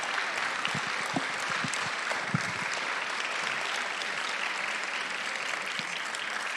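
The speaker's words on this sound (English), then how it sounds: "One more time, another round of applause for Miriam" Audience applauding a cast at a Shabbat event, sustained dense clapping from a crowd at moderate distance, steady throughout without talk.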